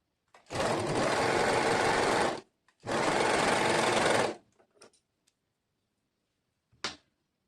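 A sewing machine stitches a muslin dress sleeve in two loud, rapid runs of about two seconds each, followed by a few light clicks and a short final burst.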